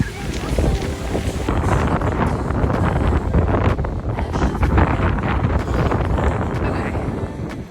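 Strong wind during a wind storm buffets the microphone with a steady, loud roar and gusty rumble that lasts throughout.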